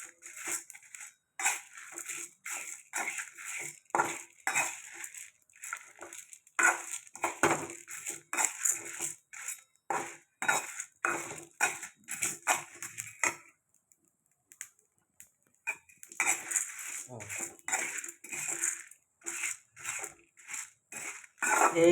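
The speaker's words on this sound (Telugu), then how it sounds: "కందులు, కందిపప్పు, ఇది ఎండుమిరపకాయలు, జీలకర్ర కొద్దిగా వేసి ఎక్కువగా కొద్దిగా వేపుకోవాలి." Pigeon peas, dried red chilies and cumin roasting in a pan, a dense run of dry crackling, ticking and rattling taps close up that goes on steadily, pauses briefly partway, then resumes, with no voices.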